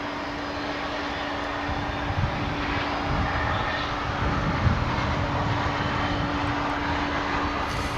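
Jet airliner that formerly flew for Japan Airlines, at Dallas/Fort Worth Airport, giving a steady loud engine roar with a sustained whine, fairly close and unbroken, with no talk.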